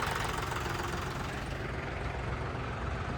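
A John Deere 5210 tractor fitted with big tyres idles nearby, a steady, dense low engine rumble with a faint knocking texture running evenly throughout.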